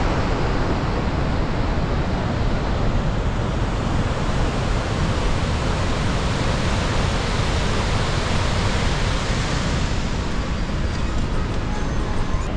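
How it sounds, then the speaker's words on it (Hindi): The Saraswati river near Mana village roars in a dense, continuous broadband rush of fast water, heard close and loud without a break. "पास से दिखाते हैं कि नदी का जो बहाव है, जो एक शोर है, वो किस तरीके का लगता है।"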